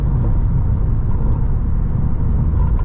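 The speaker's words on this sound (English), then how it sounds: "it's enough of a hum that puts him to sleep every time we get in the vehicle" The engine of a Subaru WRX hums inside the cabin, a steady, loud low rumble with road noise that stays constant throughout, with no voices.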